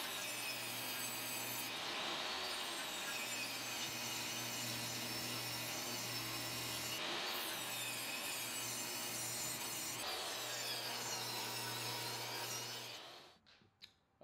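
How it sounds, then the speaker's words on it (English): Table saw ripping rounded-over edges off 2x6 and 2x4 boards: a steady loud whine and rasp of blade through wood in several long passes, spinning down at the end. "Next, I'm going to go ahead and rip off these round over edges."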